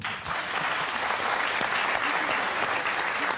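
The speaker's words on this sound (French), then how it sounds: "Qu'on applaudit." Studio audience on a French television variety show applauding, a dense, loud, steady wash of clapping hands that fills the whole stretch with no voices over it.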